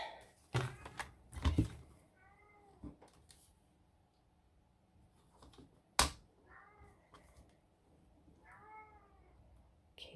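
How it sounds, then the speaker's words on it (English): A cat meows several times indoors, short tonal calls spaced apart, mixed with nearby handling clicks and paper craft rustles and a sharp tap midway. "Kitty talking."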